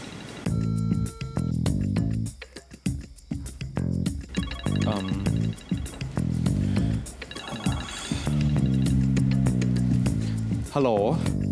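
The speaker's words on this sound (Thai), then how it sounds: "มาริเขาลืมมือถืออ่ะ" A mobile phone left behind rings with a repeating electronic ringtone melody, steady and fairly loud, under a music-like backdrop in a drama scene.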